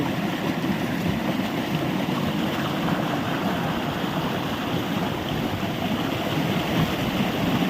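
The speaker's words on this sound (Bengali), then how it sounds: "প্রচুর পানি এখান থেকে যাচ্ছে একেবারে প্রচুর" A river in rural Jharkhand or Bihar rushes strongly, making a dense and steady broadband roar. The flowing water sounds close and constant throughout, with no speech.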